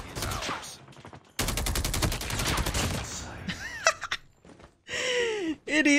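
An RPD machine gun fires in a ranked hardpoint match of a first-person shooter, with a loud sustained burst of rapid rounds in the middle, shorter bursts elsewhere, and a voice talking around the shooting.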